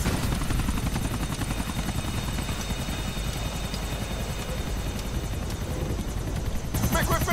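A helicopter in Grand Theft Auto IV thunders steadily with loud, continuous rotor chop throughout, with spoken dialogue over it.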